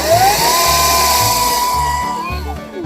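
Battery chainsaw with a freshly sharpened chain cutting into wood: a close, loud motor whine rises and holds steady under load for about two seconds with choppy low chatter from the cut, then spins down.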